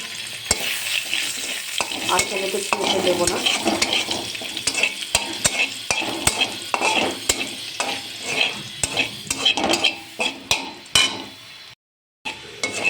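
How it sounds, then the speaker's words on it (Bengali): Whole cumin seeds and dried red chillies sizzle in oil left in a kadai after frying fish, with steady crackling, frequent sharp clinks of a spatula stirring against the pan, and a brief spoken line near the end. "মাছ ভাজার পরে ওই কড়াইতে বেশ খানিকটা তেল আছে, ওর মধ্যে একটু গোটা জিরে আর শুকনো লঙ্কা দিয়ে দিলাম।"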